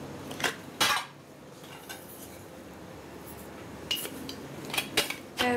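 Pots, pans and cutlery clink and clatter on portable hot plates in a small home kitchen, with sharp metallic knocks coming in scattered bursts and a quiet stretch between them, close and fairly loud, without talking.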